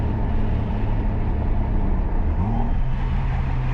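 A turbocharged 1JZ engine in a Lexus IS300 revs steadily and loudly up close, a dense mid-range drone with a rising pitch sweep partway through and no voices.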